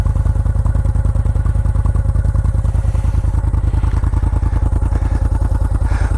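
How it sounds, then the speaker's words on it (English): A 2010 Moto Guzzi V7 Cafe motorcycle idles up close, its exhaust putting out a steady, deep, rapid pulsing thump that stays even and loud throughout. "the little idling sound. This exhaust is a good sound exhaust, not super loud, but has this nice deep tone."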